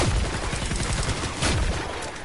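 Rapid automatic gunfire from a video game gun, a dense continuous burst of shots with a slight swell midway, loud and close with no voices.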